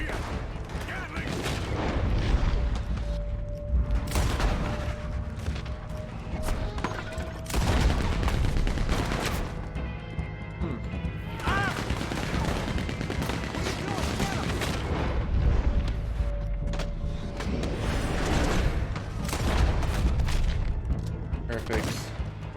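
Gatling gun fire in Red Dead Redemption 2 during a Chapter 4 story shootout: repeated bursts of rapid, booming shots mixed with scattered gunfire and mechanical clatter, loud and close, with a voice speaking briefly amid the firing.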